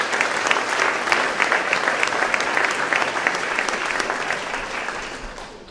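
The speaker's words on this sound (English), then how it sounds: "let's give them all a round of applause" A room of guests at a legislative chamber mixer breaks into warm, dense applause that holds steady for several seconds and then tapers off near the end.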